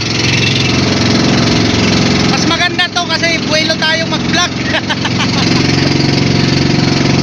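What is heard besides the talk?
loud diesel boat engine running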